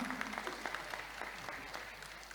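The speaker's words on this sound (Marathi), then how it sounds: "जोरदार टाळ्या वाजवूया या मंडळासाठी." A bhajan group performing at a devotional singing event gets a round of audience applause: dense, even clapping from a crowd, heard at a distance and fairly faint throughout.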